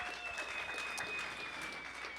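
Applause for a high school football tight end at a coach's show, a steady patter of clapping from a small gathering, moderately distant and fairly faint.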